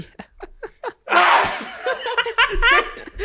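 A voice imitates an exaggerated sneeze: quick sharp inhaled gasps, then one loud drawn-out yell, followed by laughter, all close up.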